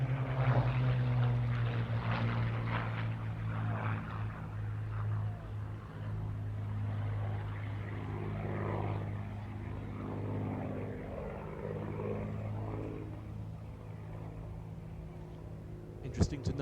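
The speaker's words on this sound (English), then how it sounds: "the Spitfire 2A, the Battle of Britain veteran aircraft, currently on the left" A Spitfire 2A, a Battle of Britain veteran propeller fighter, drones steadily at an RAF Waddington airshow, a continuous engine hum with tonal harmonics held at moderate level throughout while a voice talks over it.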